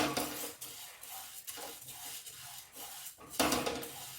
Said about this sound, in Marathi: पॅन गरम करत ठेवायचं आहे त्यावर असे धणे पेढे परतून घ्यायचे